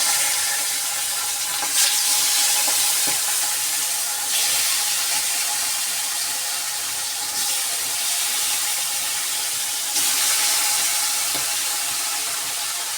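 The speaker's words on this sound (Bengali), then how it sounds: "এখন এক এক করে মাছগুলোকে ছেড়ে দেবো তেলের মধ্যে" Hilsa fish frying in oil in a wok, a steady bright sizzle and hiss that swells in waves with a few soft clinks, close and continuous.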